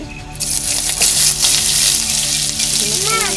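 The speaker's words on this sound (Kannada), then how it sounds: "ಕೆಂಪಾಗೋವರೆಗೂ ಫ್ರೈ ಮಾಡ್ಕೋಬೇಕು ಈರುಳ್ಳಿನ ಇಟ್ಕೊಳ್ತಾ ಇದ್ದೀನಿ" Onions fry in hot oil with mustard seeds and bay leaf for chicken sukka, a steady close sizzle and crackle running throughout with faint clinks and a brief whistle-like tone near the end.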